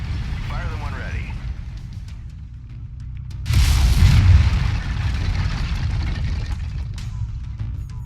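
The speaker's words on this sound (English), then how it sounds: "Lasers are mapped to Weapon Group 2. Fire them when ready." Mech lasers firing in MechWarrior 5, a sudden bright burst of weapon fire over a constant low engine rumble, close and loud, the blast sustained for about a second before settling back into the droning machine hum.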